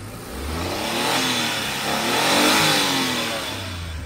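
A Suzuki DA17V minivan engine runs close by, its revs rising, easing off and swelling again in smooth surges over a steady mid-pitched drone. No one speaks.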